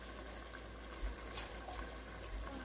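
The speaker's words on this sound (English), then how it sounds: "Rinse it out with water." Water runs from a kitchen tap into an emptied 8-ounce tomato sauce can to rinse it, a faint, soft splashing trickle heard close with a few small surges.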